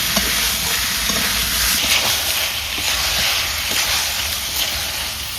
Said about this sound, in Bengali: এখন আমি দেবো হলুদ, কাঁচা লঙ্কা আর লবণ পরিমাণ মতো। আবার কিন্তু কষাবো।